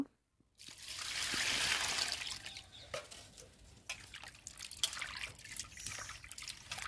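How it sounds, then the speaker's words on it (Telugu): Light drizzle keeps falling outdoors, a steady soft wash of rain with scattered drips and small patters landing close by, and no voices. "వర్షం పడతానే ఉంది వర్షం అయితే తగ్గలేదు ఆ తోర చినుకలే పడుతున్నాయి"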